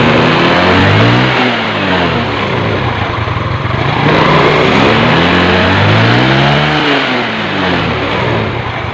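A Yamaha Mio Sporty scooter fitted with a Mio J cylinder head runs after a carburetor service, its loud, close engine holding steady then revving up and down in repeated swells.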